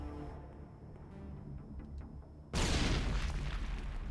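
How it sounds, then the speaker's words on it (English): A grenade blast in the Mass Effect video game, one sudden loud broadband boom after a quieter stretch, with a sustained rumbling roar that carries on afterward. "Okay, there's a grenade."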